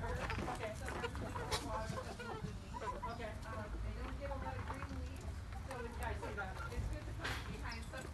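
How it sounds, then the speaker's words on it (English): Native chickens clucking around a small town near Half Moon Bay, scattered bird calls sounding throughout over a steady outdoor background with someone talking much of the time. "there are chicken, native chicken. This is a native chicken."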